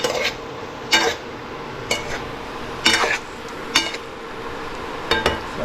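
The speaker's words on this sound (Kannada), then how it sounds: "ಸೊ ಒಗ್ಗರಣೆ ಜೊತೆ ನೀಟಾಗೆಲ್ಲ ಮಿಕ್ಸ್ ಮಾಡ್ಕೊಳ್ಳಿ." A spoon stirs vegetable sambar with its tempering in a cooking pot, giving several distinct metallic scrapes and clinks at irregular intervals over a soft steady background.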